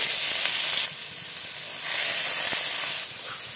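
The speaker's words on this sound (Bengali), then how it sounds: "তেলটা গরম হয়ে গেছে, ভুসো চিংড়িটা ভেজে নেব" Small bhuso shrimp fry in hot mustard oil in a kadai, giving a loud, steady sizzling hiss that swells and eases slightly in waves, with no voices over it.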